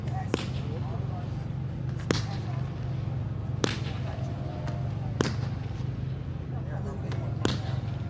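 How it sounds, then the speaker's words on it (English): Fireworks at a 2025 display pop in sharp, distant reports about every one to two seconds, five or six cracks spaced over a steady low rumble of crowd and outdoor noise. "that's the pop, that's the actual firework"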